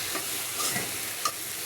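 A hot tempering of spices hits boiled greens in a pan close by, giving a loud, steady hiss of frying with faint stirring scrapes and small crackles.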